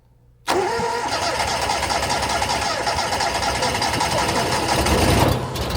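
A cold Wolfe Ridge 17VS-C wood splitter engine cranks and catches after a short silence, then runs steadily at a loud, close idle in a winter night setting, rising slightly near the end before dropping.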